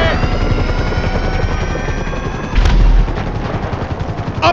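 Police helicopter in Grand Theft Auto 5 hovering close and loud, its rotor thumping in a steady rapid chop under a whining engine tone, with a heavy boom or gunfire burst cutting in midway.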